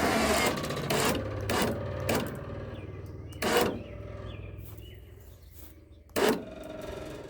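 An electric winch mounted on a trailer and hooked to the rear ramp rail strains under load, giving a close mechanical whirring grind with several loud, sharp clunking bursts spaced through it.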